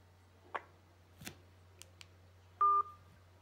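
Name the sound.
telephone keypad dialing tones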